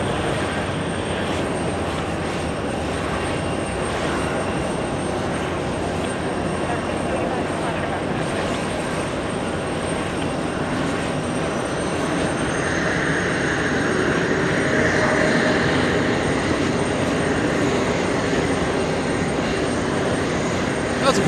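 Lufthansa Boeing 747-8 jumbo jet lifting off from JFK bound for Frankfurt, a steady loud engine roar that swells slightly toward the end, with people talking over it.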